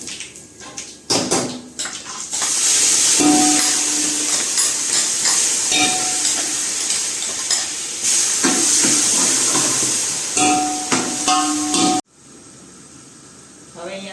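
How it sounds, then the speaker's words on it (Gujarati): Spices tempering in hot oil for a Gujarati guar bean and potato curry give a loud, steady sizzling hiss with stirring and faint voice-like tones, then drop abruptly to quiet near the end. "ચાલો અત્યારે હવે આપણે વઘાર કરી રહ્યા છીએ સાકુનો બરોબર"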